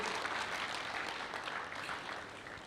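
Faint applause for the Commissioner General comes from a gathered crowd, a soft continuous patter of many hands that stays distant and low for a few seconds.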